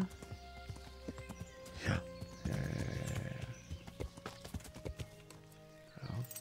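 Horse hooves clip-clop at a walk while riding in Kingdom Come Deliverance, a steady close rhythm with a brief whinny, as a man murmurs quietly over it.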